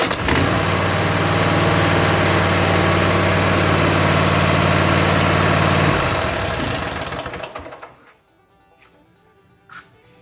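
A Kohler SV720 small engine runs steadily and loudly after a carburetor cleaning, holding a constant idle for about six seconds before winding down and shutting off, leaving near silence.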